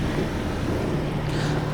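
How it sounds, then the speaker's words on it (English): A 2010 Chrysler Town & Country's engine idles with a steady low rumble and broadband hum, close and unbroken for nearly two seconds with no talking. "Engine's running great."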